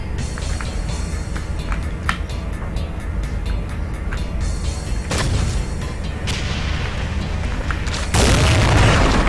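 Grenade launcher blasts in the Complex Memory video game, a few sharp booms over a constant rumbling game soundscape, the last one swelling into a loud, sustained roar near the end.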